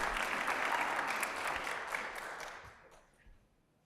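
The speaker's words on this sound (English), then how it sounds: "So give them a big round of applause." Morning audience applauding presenters at a Kansas City startup pitch event, a full burst of clapping that starts strong and gradually thins out and fades over about four seconds.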